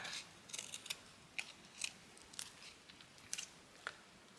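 Scissors snip through fabric for a mixed-media word embellishment, making about nine crisp, quiet cuts in an irregular rhythm, close by with no talking.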